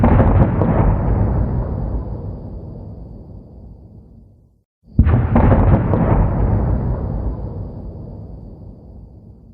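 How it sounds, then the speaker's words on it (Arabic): A distant explosion sound effect: a deep rumbling boom that slowly fades, cuts to silence, then a second heavy blast with a sharp onset rolls out and decays, loud with no voices. "رقم ستة: الانفجار البعيد."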